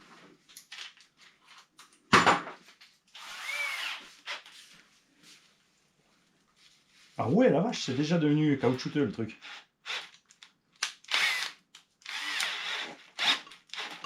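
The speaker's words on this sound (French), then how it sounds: "Perceuse." An electric drill whirs in short bursts while drilling for an M4 insert, a sharp spin-up near the start and a longer grinding run in the middle, with someone talking between bursts.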